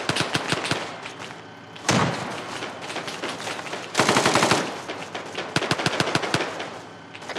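Automatic gunfire in the military video game Arma 3 comes as rapid rattling bursts, with heavier booming volleys and brief pauses between them, loud and close throughout.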